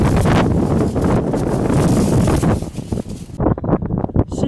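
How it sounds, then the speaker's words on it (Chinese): Strong gusting wind roars against the microphone on an exposed mountaintop in Xinjiang, loud and continuous before easing into choppier buffeting toward the end. "这里山顶是风口了，山顶今天风非常大的"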